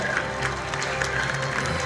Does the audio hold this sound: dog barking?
no